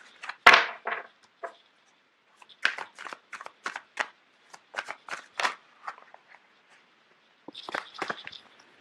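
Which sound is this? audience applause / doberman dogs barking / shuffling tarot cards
shuffling tarot cards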